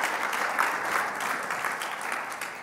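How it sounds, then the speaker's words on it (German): Audience applause fills a conference hall at a domain-registry industry event, a steady, dense clapping that stays even throughout. "ich glaube schon, dass das einen Applaus wert ist."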